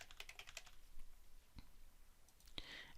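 A name is typed on a computer keyboard in a quick run of soft key clicks, followed by a few isolated taps and a final louder click, quiet and close in a still room.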